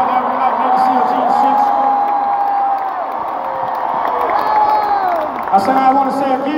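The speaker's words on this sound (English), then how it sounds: "big round of applause to the dancers, the most bad ones, the band, the agents, and the production team" A concert crowd cheers and applauds at a show in Miami Beach, a steady loud roar of voices and whoops under amplified talk from the stage throughout.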